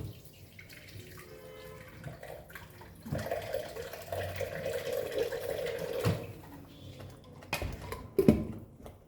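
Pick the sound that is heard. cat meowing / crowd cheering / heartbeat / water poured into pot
water poured into pot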